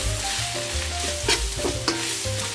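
Onions fry with coriander and turmeric powder for Thalassery mutton biryani, a bright continuous sizzle with a few sharp stirring scrapes, close, over steady tonal sounds in the background.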